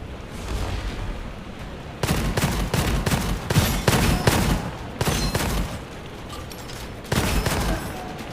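Rapid gunfire from the default weapon in the video game Gunfire Reborn, dense, loud shot bursts in several volleys with short pauses between them, and no speech.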